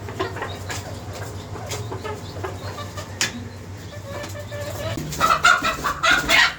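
Chickens clucking and fussing while pecking at tea, scattered close clucks over low background noise, growing busier and louder near the end.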